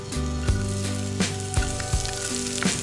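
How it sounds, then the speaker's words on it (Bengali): Chopped onion frying in hot white oil in a kadai, a steady close sizzle with a few sharp crackles and stirring clinks scattered through, no voices. "এতে পেঁয়াজ কুচি দিয়ে লালচে করে ভাজুন।"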